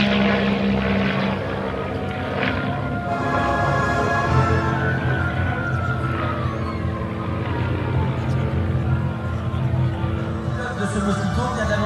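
A de Havilland Mosquito propeller aircraft on final approach with gear down, its steady engine drone continuous and fairly loud throughout, with a slight shift in pitch partway through.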